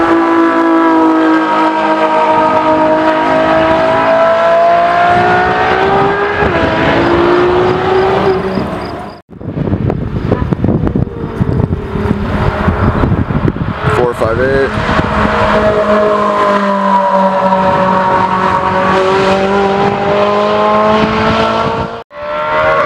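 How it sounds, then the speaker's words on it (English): A Ferrari LaFerrari runs on a race track, its engine note rising and falling through gear changes with strong whining harmonics, loud and close, under someone talking. "Guys, LaFerrari on track."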